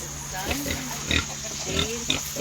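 Pigs on a farm grunt in short, low bursts, close by under a layer of talk.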